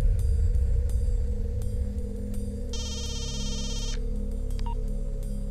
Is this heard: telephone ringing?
yes